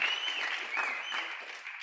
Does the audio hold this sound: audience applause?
yes